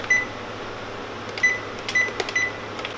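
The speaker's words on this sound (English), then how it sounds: "now I'm gonna go ahead and turn on my oven to 350" Short electronic beeps from a kitchen oven's control panel as the temperature is set to 350, several quick tones spaced across a few seconds over a low steady hum.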